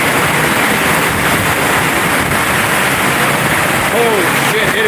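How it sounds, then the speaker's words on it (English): Heavy thunderstorm rain lashes down as gusting wind builds, making a loud, unbroken roar that fills the whole scene, with a brief faint voice near the end. "Even harder rain. Oh my God, here comes the wind."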